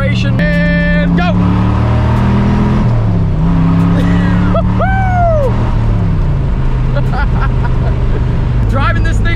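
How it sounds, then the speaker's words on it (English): A 58-year-old classic car accelerates on a hot day, its engine droning loud and close through several rising and falling gear changes, with a voice speaking over part of it. "Let's get on her here for a little acceleration and go."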